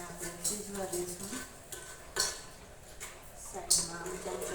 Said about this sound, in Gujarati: સાઈડમાં આમ ચમચો ફરાવીને